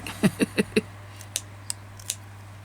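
Four quick snips of scissors cutting fabric for applique work, crisp and close, followed by a few lighter clicks of the blades and a steady low hum underneath.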